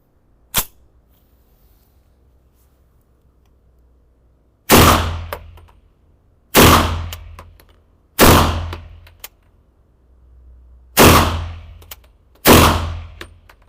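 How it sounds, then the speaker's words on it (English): Five sharp gunshots ring out one at a time with pauses between them while a VectorOptics Frenzy red dot sight is zeroed, loud and close, each followed by a short decaying echo, after one small click early on. "Let's fire another 5 shots to see where the group goes now."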